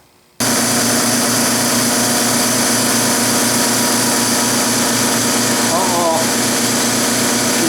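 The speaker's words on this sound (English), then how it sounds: "see if my diagnosis was correct on this old Craftsman compressor that I bought" An old Craftsman air compressor kicks on loud and close, its motor droning steadily with a pulsing rhythm; a person exclaims briefly near the start.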